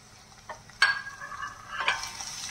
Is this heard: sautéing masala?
yes